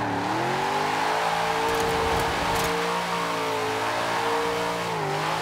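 A stock 1969 Dodge Charger Daytona in Forza Horizon 4 holds second gear, its engine droning loud and steady with harmonics that sag and rise slightly as revs shift, uninterrupted throughout.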